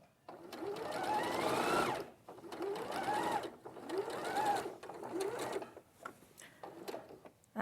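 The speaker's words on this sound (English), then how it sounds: "sewing around curves, but you know, if you go too fast, obviously you're going to have less manoeuvrability" A sewing machine stitches around curves in several close, whirring bursts separated by short pauses, its pitch rising and falling as the speed changes.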